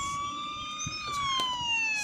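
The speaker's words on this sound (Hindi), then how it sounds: "सायरन भी चल रहा है" A vehicle siren wails in a bike video game, steady high electronic tones gliding slowly downward across two seconds, loud and alone with faint engine rumble beneath.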